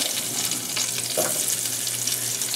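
Onions sizzle steadily in a hot skillet, a loud close-up frying hiss with occasional stirring scrapes, no voices.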